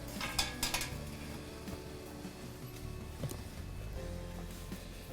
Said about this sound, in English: Place the rack into the canner.